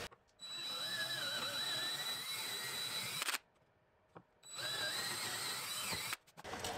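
A power drill with a brad tip bit bores a hole in a cabinet for drawer handles, two steady whirring bursts of about three and two seconds separated by a pause, close and clear.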